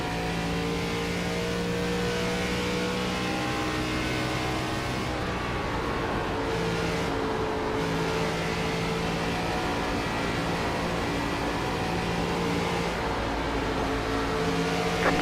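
ARCA race cars at Darlington drone with a steady, loud engine whine that holds throughout, shifting pitch slightly as cars pass, with no talking.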